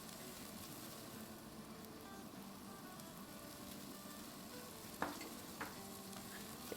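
Chopped onion and minced garlic sautéing in a tablespoon of oil in a pan, a steady, soft sizzle running throughout with a couple of brief clinks near the end, no talking.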